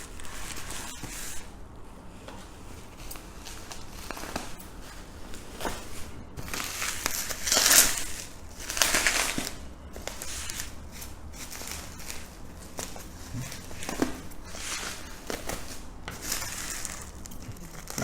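Cardboard and plastic packing around a Logitech Z333 2.1 computer speaker set crinkle, tear and rustle as the box is opened, with scattered close handling noises and a few sharper rips, no talk.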